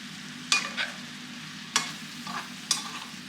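Apple slices sizzle gently in a pan under a steady low hiss, with three distinct stirring scrapes spaced about a second apart and no voices.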